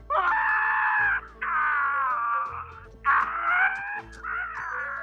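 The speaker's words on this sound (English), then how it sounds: "This old man's screaming is to screaming what Matthew Lillard's crying is to crying on screen" A hoarse, wailing scream repeats in four long, loud bursts with short gaps between, strained and warbling, close and piercing.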